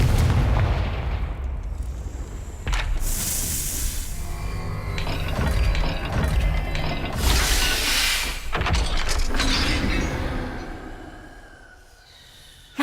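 A hidden stone mechanism grinds open in a Slytherin-themed chamber in Hogwarts Legacy, a loud, sustained rumbling and scraping with heavy booming thuds, continuing steadily for many seconds before fading at the end.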